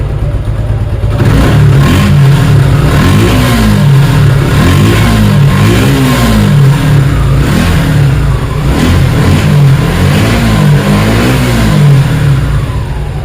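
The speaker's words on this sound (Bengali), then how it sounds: "আমি আগে প্রথমে ক্লাস ধরলাম তারপর স্টার্ট দিয়ে দিচ্ছি" A Suzuki Gixxer Monotone 155cc motorcycle engine starts and revs repeatedly up and down, loud and close, its throttle rising and falling in rhythmic bursts.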